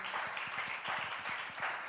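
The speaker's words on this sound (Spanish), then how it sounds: "Alguien le da un aplauso al Señor porque Él es bueno siempre" A church congregation applauds during a sermon, a steady dense wash of many hands clapping at moderate volume throughout, with a faint underlying rhythmic beat.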